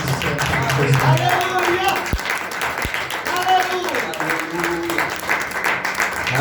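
A church congregation claps in praise during a worship service, the clapping steady but partly buried under loud voices calling out and singing.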